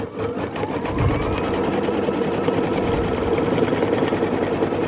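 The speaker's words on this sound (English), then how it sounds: "Now we're going to stitch down our bow material." An embroidery machine stitches down bow material in a steady, rapid, close mechanical patter that keeps an even rhythm throughout.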